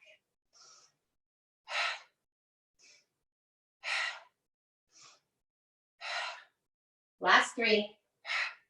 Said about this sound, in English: Use the breath. Make sure it's audible. Inhale up, exhale as the belly comes back.